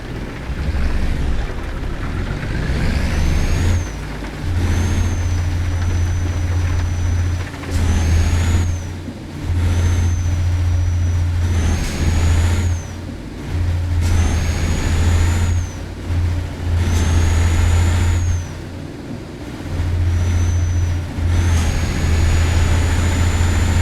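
Simulated truck engine in Euro Truck Simulator 2, driven with a Rampage Force V995 wheel: loud steady droning engine that rises and drops in repeated cycles through gear changes, with faint high whistles riding over it and no talk.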